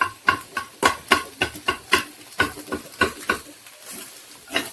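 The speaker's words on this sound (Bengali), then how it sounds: "আর এদিক দিয়ে যে মা ডিম ভাজা দিতেছে নুডলস দেওয়ার লিগা" An egg frying in a pan for noodles, heard as close, irregular bursts of sharp crackling pops and spatters at a fairly quick rhythm, with no talking.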